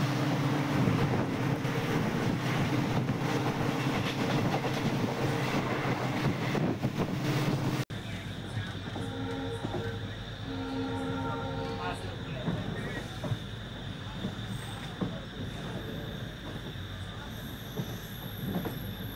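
The Tambaram–Ramanathapuram Express runs along the tracks with a steady, loud rumble and rattle of wheels and carriages. Midway the sound shifts abruptly to a slightly quieter interior drone with faint squeals.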